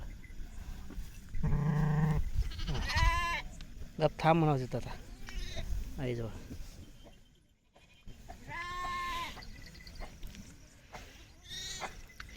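Goats in a herd bleat several times, loud nearby calls in short bursts with pauses between them, while people talk over and around the animals.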